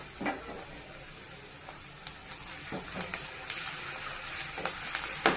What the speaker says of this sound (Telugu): పచ్చివసన పోయినంత వరకు ఫ్రై చేసుకోవాలండి